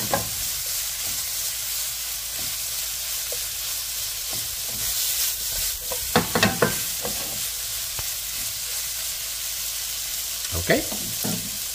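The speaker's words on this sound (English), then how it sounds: "Now we're gonna toss the noodle until softened." Drunken noodles being tossed and stir-fried in a hot pan, a steady sizzle with intermittent scraping and clattering of the utensil against the pan, louder bursts around the middle and near the end.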